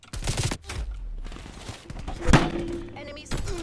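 Bursts of AK-47 fire in a multiplayer shooter match, with loud sharp reports and a heavy thump near the middle, mixed with game effects and background chatter.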